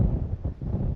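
Wind gusting across an open marsh ditch bank between two ponds, a steady low rumbling buffet against the microphone throughout, with no voices.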